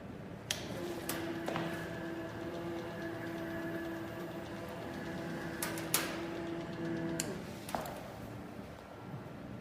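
An inkjet marking machine printing: a steady mechanical hum with sustained tonal whines from the mechanism and a few sharp clicks and ticks, heard close in a quiet room.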